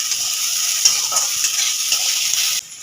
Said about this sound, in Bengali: ভালো করে একটু ভাজা ভাজা করে নিলেই আমার কমপ্লিট।